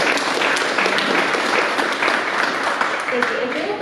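A crowd at an annual society meeting claps steadily for a team member who has been asked to stand, a dense, even wash of applause that holds at a constant level for several seconds.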